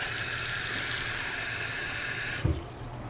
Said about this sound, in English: I want to add just a tiny bit more water to let that cook just a little longer.